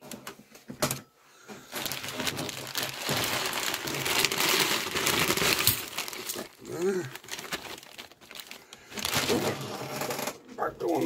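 A plastic bag of 50p coins is torn open and rummaged, giving dense crinkling, rustling and crushing noise with occasional coin clinks, close and fairly quiet, with brief pauses and faint voice sounds mixed in.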